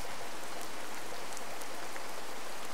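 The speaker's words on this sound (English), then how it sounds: "The rain's letting up." Rain in the Boogeyman survival horror video game, a steady, hissy wash of falling drops at constant level throughout, close and fairly loud with no voices.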